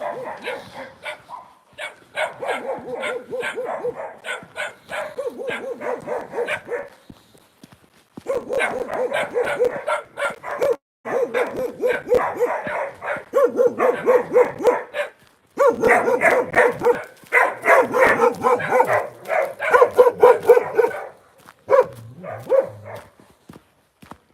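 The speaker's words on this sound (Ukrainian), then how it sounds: "Тут собаки гавкають дуже голосно." Several dogs bark loudly and continuously in rapid overlapping bursts, with brief pauses between volleys.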